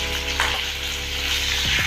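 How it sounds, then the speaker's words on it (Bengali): Pointed gourd pieces fry in hot mustard oil with a pinch of salt, giving a close, continuous sizzle, with a few soft stirring scrapes toward the end and no speech. "এখানে পটল দেওয়া হয়েছে সর্ষের তেলে, গরম সর্ষের তেলে"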